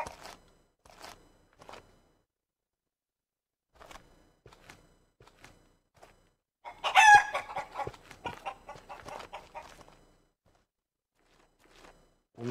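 A rooster crows loudly amid a burst of hen clucking on a game farm, with scattered soft clucks and footsteps before and after in a quiet setting.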